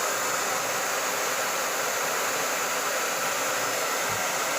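Hair dryer fitted with a diffuser running on a low warm setting, a steady close airy rush of broadband noise that holds unchanged throughout, with no voices.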